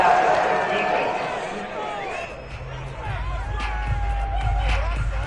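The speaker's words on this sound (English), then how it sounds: "this crowd does not like that call" A UFL football stadium crowd at a Chargers versus Broncos game swells into a loud, sustained disgruntled roar after a penalty call, rising from quieter chatter and a commentator's voice into a broad wall of crowd noise.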